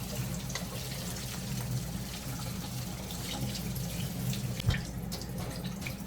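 Tap water runs steadily into a sink as relish vegetables for dill relish are rinsed, a continuous close rush of water with a brief splash near the end.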